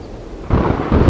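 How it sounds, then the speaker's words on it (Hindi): Thunder rolls during a rainy-weather outdoor scene, a low rumbling swell that jumps louder halfway through the brief moment and stays heavy to the end. "बादल गरज रहे हैं"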